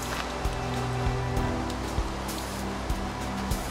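Rain falls in a Minecraft desert, a steady hiss of simulated rainfall with faint regular ticks recurring roughly every half second underneath.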